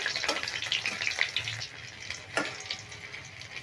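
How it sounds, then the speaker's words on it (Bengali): Bay leaf, dry red chillies split down the middle and green chillies tempering in hot oil, a steady close sizzle with soft stirring scrapes across the pan. "ফোড়নটা আমি একটু নেড়ে ভেজে নিচ্ছি।"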